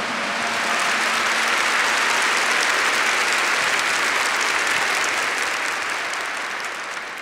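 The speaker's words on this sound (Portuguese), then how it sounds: "Aplausos para Ele." A large audience at a church talk gives sustained, loud applause that holds steady for several seconds before slowly tapering off.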